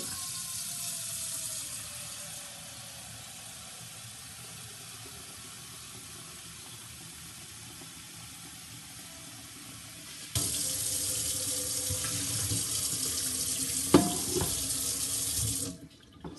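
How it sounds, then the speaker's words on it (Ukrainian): Tap water runs into a saucepan at a kitchen sink as a steady hiss, growing louder and splashier partway through before the flow stops with a few clanks. "Беремо каструльку, в каструльку набираємо води."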